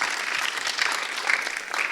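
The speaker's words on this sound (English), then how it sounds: "a pat on the back through clapping" An audience applauds at a panel discussion event on gas and electrification, a dense, steady wash of clapping from many hands sustained throughout.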